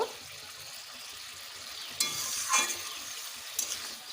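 Potatoes cooking down in a spice paste with its water, for a rohu fish curry with pointed gourd: a soft, steady sizzle with a few distinct spatula strokes and scrapes in the second half.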